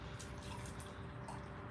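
Water poured onto clay while throwing on a spinning pottery wheel gives a soft, steady trickling and splashing over a low continuous hum, with no talking.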